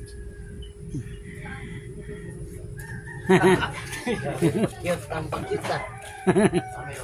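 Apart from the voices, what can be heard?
chicken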